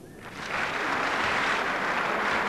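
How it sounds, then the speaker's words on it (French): Crowd applause rises from another table in a table tennis hall at the 1997 Open Walter Wear, a broad, diffuse clapping that swells after a brief quiet start and holds steady at moderate distance. "au moment où on applaudit à l'autre table"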